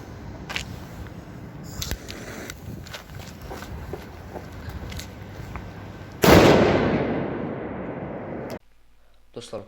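Firecrackers of the 'boss' type go off outdoors on New Year's Eve as a dense run of crackling pops, then one loud close blast near the end that decays before cutting off.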